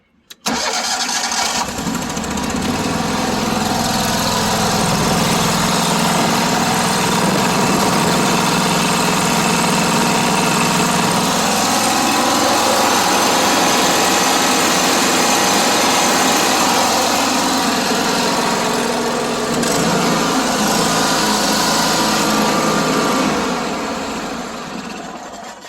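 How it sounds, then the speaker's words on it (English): A John Deere riding mower's engine, just fitted with new spark plugs, starts and runs at a loud, steady idle close by, a continuous buzzing drone that holds evenly for about 25 seconds. "That's how your engine should sound."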